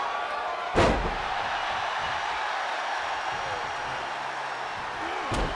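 A single heavy elbow drop slam in the WWE 2K24 wrestling video game lands loud and sharp over a steady roaring arena crowd, with a second fainter impact near the end.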